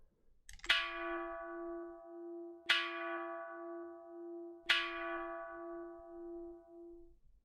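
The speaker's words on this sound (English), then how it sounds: "The bell rings. The bell for 9 a.m." A church bell in the video game Kunado Chronicles tolls three times at even intervals, each loud metallic strike ringing out with a long sustained hum that fades before the next, with no talking.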